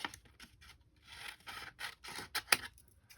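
Scissors trim paper from a Dollar Tree gift bag in a few short, quiet snips and rustles, with one sharper snap near the end.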